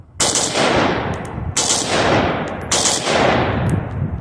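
A Pioneer forged 5.56 AK fitted with a K&S adjustable gas block and a 74-style muzzle brake fires a few rapid bursts, the loud sharp shots ringing close with decaying tails between groups.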